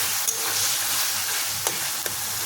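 Taro greens (kochu shak) seasoned with turmeric frying in a pan, a steady close sizzle with a few sharp scrapes of the spoon as they are stirred.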